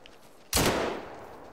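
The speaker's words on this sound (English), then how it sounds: "I tried shooting at him with the buckshot." A single loud buckshot blast from a hunting video game fires abruptly, then its booming roar trails off over about a second against a quiet background.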